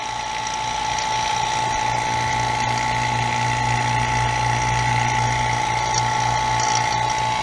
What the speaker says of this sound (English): Now I'm going to shut my pump off.